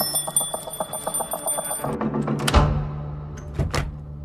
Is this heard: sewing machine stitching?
no